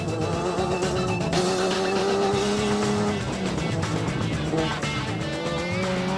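Nissan Navara SP class off-road race truck in the 2009 Adenco 400, its engine roaring loud and steady throughout with a rising and falling pitch, possible tyre noise on the loose track.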